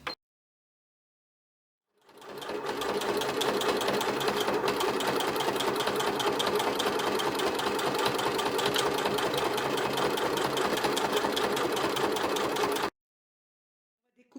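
Sewing machine stitching around a fabric baby comforter padded with batting at a tight stitch length, a steady rapid whirring hum that runs continuously for about eleven seconds between silent pauses at the start and end.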